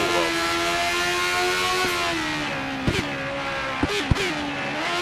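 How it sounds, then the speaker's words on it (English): Formula 1 race car engine in the F1 2013 racing game, a steady high-pitched whine rising and falling with several sharp gear-shift breaks, loud and continuous with no talk. "You hear the gears shifting?"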